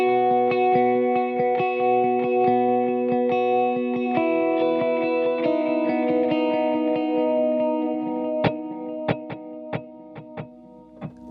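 Electric guitar chords and picked notes with a pulsing repeating delay effect, ending in sharp single plucks that ring and echo, no talking.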